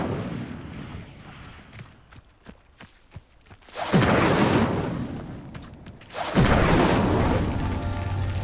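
The Incendio fire spell in Hogwarts Legacy goes off in two loud, roaring bursts of flame, each sudden and sustained for a couple of seconds, after a quieter stretch of light tapping and footsteps.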